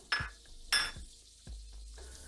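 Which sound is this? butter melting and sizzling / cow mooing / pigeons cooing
butter melting and sizzling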